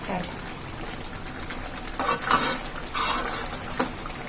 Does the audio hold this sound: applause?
no